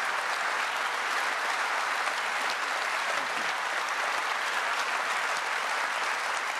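Steady crowd applause, dense and continuous throughout, heard from within the audience with no pauses.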